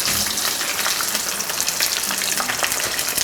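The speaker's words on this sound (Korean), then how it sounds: "난 이 소리가 그렇게 좋더라고요. 기름 튀기는 소리가." Shrimp fry in hot oil for chili shrimp, a loud, steady, crackling sizzle that continues without a break and sounds close by.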